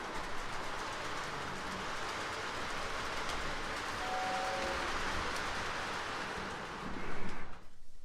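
A model train runs with a freshly oiled caboose on the track, giving a steady, even rolling rumble and whir close by that holds throughout before a brief swell near the end.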